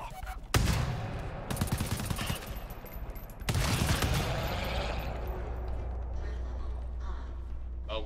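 Dense rapid-fire bursts from a video game shootout erupt in two loud stretches of automatic gunfire, then fade into a lower rumbling background. Voices are faintly present under the din.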